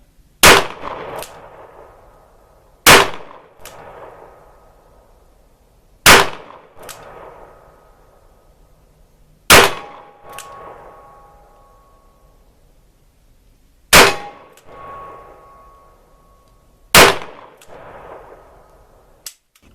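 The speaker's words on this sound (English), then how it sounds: "And then you proceed to try and shoot a steel plate at 25 yards." Six loud, sharp revolver shots from a stainless steel Smith & Wesson Model 610 in 10mm, each followed by a ringing metallic clang from a steel plate at 25 yards, spaced a few seconds apart with quiet gaps between.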